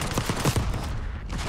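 Rapid bursts of SMG gunfire in Black Ops 6, several sharp close shots clustered in the first half second, then a noisy rumbling tail of firefight ambience.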